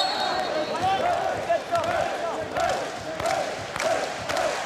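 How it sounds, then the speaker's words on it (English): A volleyball crowd at a Hawaii men's match against Stanford breaks into steady applause and cheering as a Hawaii player steps back to serve. Claps and voices form a continuous, lively arena wash throughout. "Every time Siki goes back to serve, the crowd starts up that little applause"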